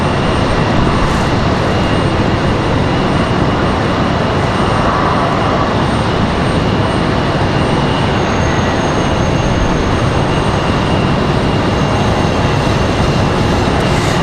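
A Republic Airways airliner at Raleigh Durham airport gives a loud, continuous jet roar that stays steady and broadband throughout, with no voices over it.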